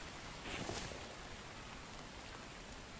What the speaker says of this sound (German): Jetzt, wo es gerade regnet.